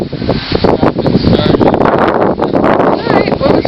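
Strong outdoor wind from hurricane-driven gusts buffeting the microphone in a steady loud roar, with a person talking over it.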